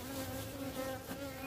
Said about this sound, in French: je vais essayer de m'éloigner un peu, parce que j'ai des abeilles